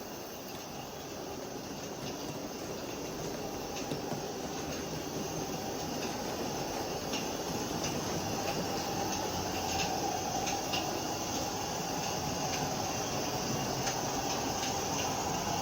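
A small live steam model Shay locomotive runs steadily with a continuous rumbling clatter and hiss, a faint high whine now and then, with no voices.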